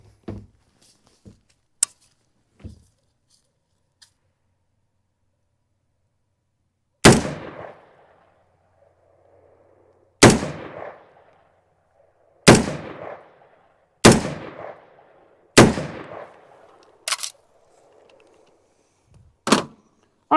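An AR-15 with an 11-inch barrel fired at 50 yards outdoors: a few faint early pops, then seven loud, sharp single shots spaced a second or more apart, each with a short decaying echo.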